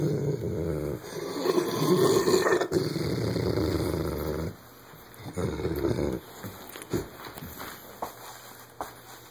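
A dog growls low and steadily up close, a long rumbling growl followed by quieter intermittent growls and a few soft sounds.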